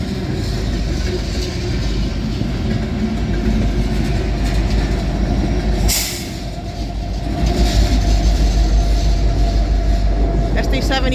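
A Union Pacific manifest freight train led by an SD70ACE locomotive rolls past up close on a rainy day, a loud continuous rumble and wheel clatter that dips briefly midway and then swells again.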